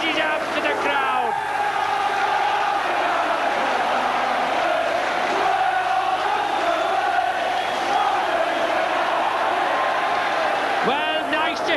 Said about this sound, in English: nice to hear the popular side crowd there